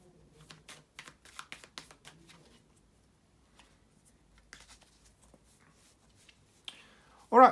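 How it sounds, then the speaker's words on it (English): Tarot cards are shuffled in quick, soft, papery riffles and taps close by, followed by quiet handling and a short loud burst at the end. "to shuffle the tarot cards"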